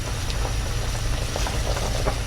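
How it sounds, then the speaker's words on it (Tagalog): Chicken tinola broth with upo coming to a first boil in a pot, a steady bubbling simmer with soft popping and low rumble, close and continuous, with no talking. "Kumukulo. Unang kulo."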